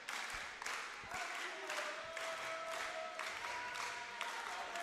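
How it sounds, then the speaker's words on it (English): Sustained applause fills a school gymnasium at a boys' high school volleyball match, a steady broadband wash of clapping from a crowd that holds level through the whole stretch, with faint voices and a whistle-like tone underneath. "Gymnasium full of applause here as the second set will get underway."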